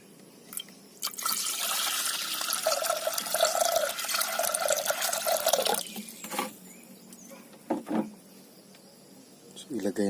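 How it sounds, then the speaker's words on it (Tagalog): Water is poured into a cooking pot holding fish, tomato and onion for a Filipino tinola, a steady splashing stream lasting several seconds, then scattered drips and clunks as the pot is handled. "Lagyan muna natin ng tubig."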